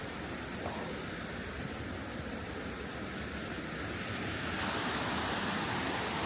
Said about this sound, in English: The river gets a little choppier there